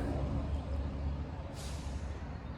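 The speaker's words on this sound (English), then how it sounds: "Sorry about the loud cars." Loud, steady traffic rumble from vehicles going by outside, with a short hiss like an air brake partway through.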